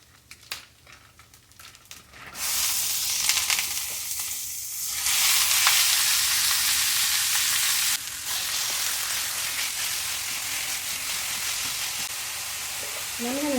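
Diced onion caramelizing in a hot pan, giving a steady loud sizzle and crackle that starts after a few quiet stirring sounds and continues close up without pause, with a short break partway through.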